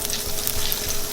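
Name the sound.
olive oil and butter sizzling in a pan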